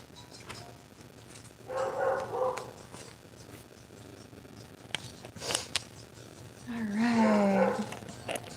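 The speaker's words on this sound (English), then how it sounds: "Sorry about my puppy in the background. Probably barking at something outside." A puppy barks in the background of an indoor room, a few short muffled bursts around the two-second mark and again near seven seconds, mid-distance and moderate in level.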